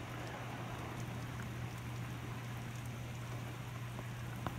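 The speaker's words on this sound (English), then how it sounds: "it just started pouring" Heavy rain pouring outside a house onto a hilly road, a steady dense hiss with scattered droplet taps, fairly faint and continuous, with a low steady hum underneath and no talking.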